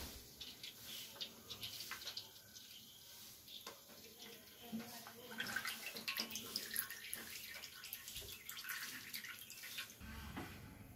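Cooking oil is poured into a large pan, giving a faint, trickling liquid stream with soft patters. It sounds quiet and close, and someone talks over it at times.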